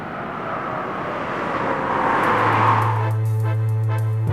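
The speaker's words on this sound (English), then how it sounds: "on the Autobahn, the drivers assess a new model's performance at maximum speeds" A new BMW car rushes along the Autobahn at maximum speed, its rising engine and wind roar building loudly past, after which music comes in.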